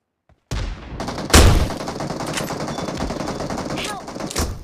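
Sustained automatic gunfire in the shooter Metro Royale: after a moment of silence a dense, continuous stream of shots starts, with a heavy blast early on and a few sharper cracks later, loud and close.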